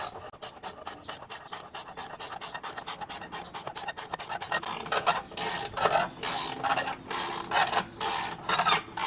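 A ratchet socket wrench clicks in quick, even bursts while tightening the clamp on a Hayward D.E. 4820 pool filter grid assembly. The ratcheting is close and loud, then gives way to slower, heavier strokes.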